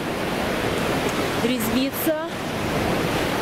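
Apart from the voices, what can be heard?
sea waves at the seaside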